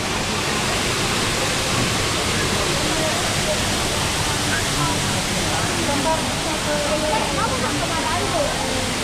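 Lalita Waterfall in Chiang Rai roars as a steady, loud broadband rush of falling water that fills the whole clip, with faint voices of visitors murmuring underneath.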